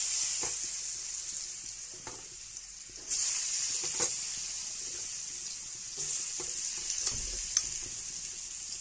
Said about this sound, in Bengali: জিরা ফোড়ন দিয়ে দিব।